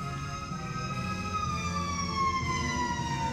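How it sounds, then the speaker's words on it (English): Emergency vehicle sirens from ambulances and police outside, a continuous wailing tone gliding slowly downward, steady and moderately distant over low traffic rumble. "I don't know what is going on out there with all of those sirens and ambulances and police"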